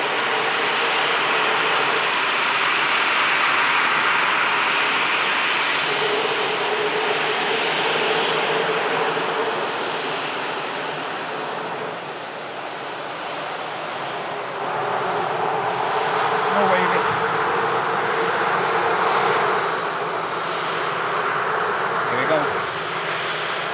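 A Saudia Boeing 787-10 bound for Jeddah rumbles as it lines up for takeoff at Manchester Airport, a broad steady jet engine roar heard from a distance, swelling slightly later on.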